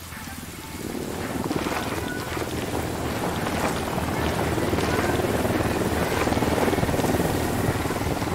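Helicopter flying in Ghost Recon Wildlands, a steady loud rotor roar with broadband rushing noise that swells in after a quiet moment and holds continuously.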